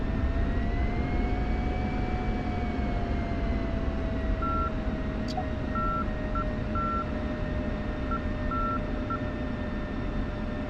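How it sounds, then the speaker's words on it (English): An F-16 Viper jet idles and taxis on an airfield in the DCS flight simulator, a steady engine roar with a slowly shifting whine and a few short electronic beeps. "Alpha Flight, 1 is taxiing out to taxiway, you guys can follow."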